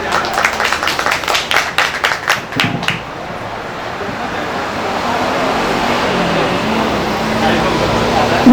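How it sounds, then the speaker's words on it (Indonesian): An audience at a village launch event in Randuagung, Singosari, claps in quick rhythmic bursts for about three seconds, then the clapping gives way to a steady outdoor background hum. "Terima kasih, tepuk tangan."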